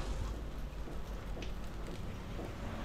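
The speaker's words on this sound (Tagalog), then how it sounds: "Yan ang ulan." Rain falling outdoors during a 30-kilo grilling session, a steady dense patter of drops on surfaces, continuous and fairly even, with no voices.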